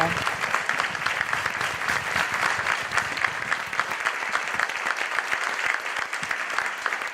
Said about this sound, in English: Let's a long round of applause for that.